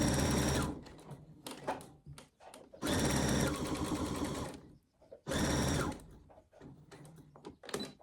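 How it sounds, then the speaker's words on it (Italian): Sewing machine stitching a fabric seam for a 3D Christmas house, close and loud, running in three bursts separated by pauses with handling clicks. "faccio la cucitura fino al segno, lasciando 1 centimetro libero"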